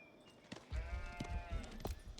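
A sheep bleats in the Age of Empires 4 real-time strategy game, one quavering, wavering cry heard clearly over low background rumble and faint clicks.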